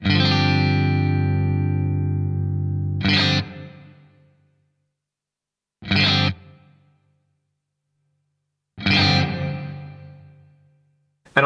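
Dry, unprocessed electric guitar through a BOSS 500 Series reverb pedal: a long sustained chord ringing out for about three seconds, followed by three short, sharply cut strummed chords separated by silence, loud and alone.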